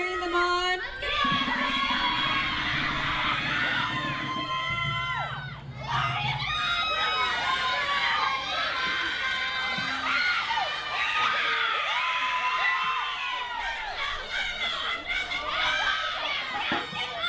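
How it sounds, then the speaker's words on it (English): A lively crowd at an Ori Tahiti dance competition cheers, whoops and shouts continuously for dancers on stage, with high children's voices and scattered laughter in a dense, loud wall of sound. "Keep cheering them on."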